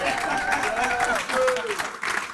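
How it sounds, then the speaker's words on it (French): A church congregation claps and acclaims the Lord, with dense applause mixed with raised voices and sung or shouted tones. "Oh, donnez une acclamation au Seigneur."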